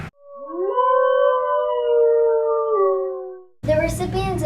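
A drawn-out wolf howl, used as a sound effect, rises and then holds a steady wavering pitch for about three seconds, loud and alone, before breaking off into a burst of other sound.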